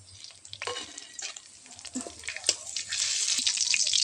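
Sugar and whole garam masala fry in hot mustard oil in a wok, a bright crackling sizzle that builds and grows louder and denser toward the end, with occasional stirring scrapes.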